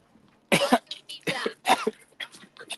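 Several harsh coughs in a row from one person nearby, loud bursts separated by short pauses.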